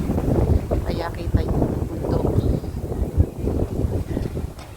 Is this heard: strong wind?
yes